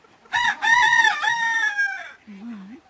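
A rooster crows loudly and close by with a long, drawn-out call, and a short low cluck from the chickens follows.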